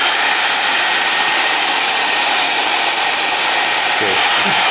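A Dyson Supersonic Ionic hair dryer runs with a loud, steady broadband airflow roar, close and constant throughout, with a faint low thump near the end.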